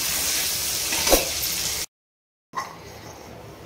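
Capsicum pieces fry in a pan with a bright, hissing sizzle, then a short silent gap, then softer sizzling. No speech.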